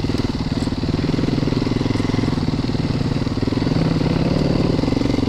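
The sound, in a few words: Christini AWD 250cc big wheel motorcycle engine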